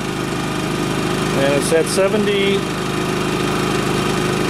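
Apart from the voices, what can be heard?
Champion 3500 watt dual fuel generator running in economy mode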